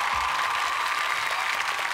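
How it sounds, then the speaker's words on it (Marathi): A studio audience at a Marathi TV comedy show breaks into loud, sustained applause, a dense, steady wash of clapping that continues without a break and with no talk over it. "जरा जोरदार टाळ्या होऊन जाऊ देत."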